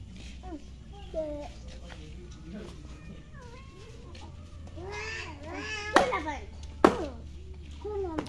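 A cat meows repeatedly while being teased by children, its cries rising and wavering over a low hum, with children chattering nearby and a couple of sharp claps or knocks near the end.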